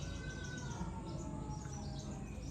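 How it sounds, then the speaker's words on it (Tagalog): Many birds calling outdoors in a forested area of the Philippines, a dense, continuous chorus of chirps and tweets over a steady ambient hiss, with no talking. "At saka doon sa likod, maraming ibon."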